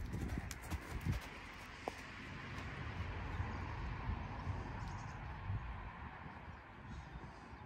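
A pony's hooves clip-clop steadily on the ground as it runs, a continuous near rhythm of hoofbeats with no talking.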